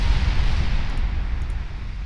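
Battleship guns fire in the naval warfare game Ultimate Admiral Dreadnoughts, producing a dense, continuous low rumble of heavy booms that stays loud for the whole stretch.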